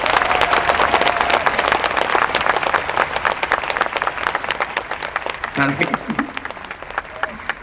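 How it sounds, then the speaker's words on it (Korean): A large audience claps vigorously at a parliamentary audit hearing, dense sustained applause that fades slightly toward the end while someone speaks briefly over it. "여러분 하늘까지 들릴 수 있도록 여러분 박수 한번 부탁드리겠습니다."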